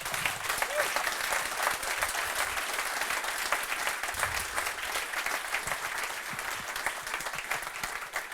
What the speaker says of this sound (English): Warm applause